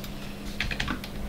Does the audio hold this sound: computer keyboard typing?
yes